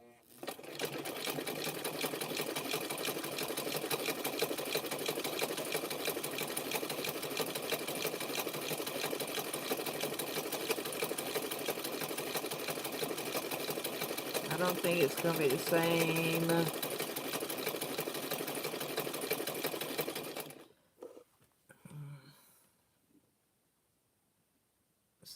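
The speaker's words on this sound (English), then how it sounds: "I'm using the real skinny nose sewing machine" A skinny-nose sewing machine runs continuously for about twenty seconds, a loud steady mechanical whir, stitching fabric-wrapped clothesline rope, with a brief spoken remark near the end before it stops.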